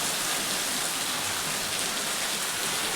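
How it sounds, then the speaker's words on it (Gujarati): Heavy, stormy rain pours down at night in a steady, dense roar that fills the whole clip without a break. "વરસાદ જોરદાર અત્યારે ચાલુ થયો છે"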